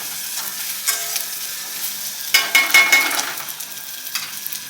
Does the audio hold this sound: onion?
yes